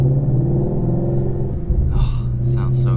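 A Ford Mustang Shelby GT350 engine rumbles low and steady while driving, a deep continuous drone inside the car with brief voices breaking in toward the end.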